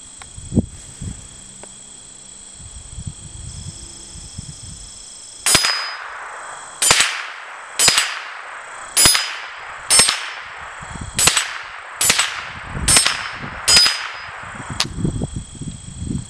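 Browning SA-22 .22 rifle fired at steel targets: nine sharp shots with ringing metallic clangs at a steady pace, loud and near, after several seconds of quiet with faint background noise.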